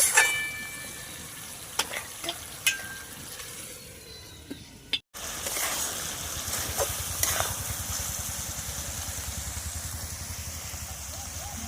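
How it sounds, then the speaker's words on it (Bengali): Matar mushroom curry sautéing slowly in a pan over a low flame, a soft continuous sizzle with occasional scraping clicks, briefly cut off midway and then resuming steady and close. "এরম আস্তে আস্তে উনুনে হালকা আঁচেতে কষাতে হবে"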